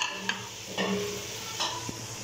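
Potatoes fry in hot oil with masala, a steady close sizzle broken by a few scraping stirs of a spoon in the pan, with no talking.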